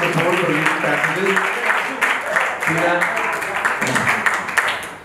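An audience at a book launch applauds with dense, steady clapping, while voices call out underneath and an announcer's voice carries over the top.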